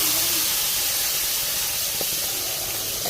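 A loud, steady sizzle and hiss of hot oil tempering with mustard seeds, curry leaves and onion hitting coriander chutney, close by and continuous for a few seconds, no speech.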